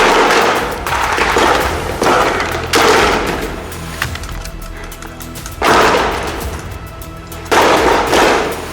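Bursts of blank-fired machine gun fire at a World War II battle reenactment, several loud rattling volleys separated by short pauses, close by and outdoors.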